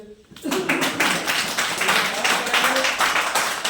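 Applause from an audience at a Modicare success testimonial event, a dense spread of hand claps that starts suddenly and holds steady, with a voice speaking over it at the beginning.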